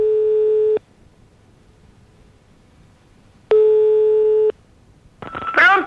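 An Italian telephone line gives a busy signal: two long, steady, loud tones separated by silence, followed by a brief burst of other sound at the very end.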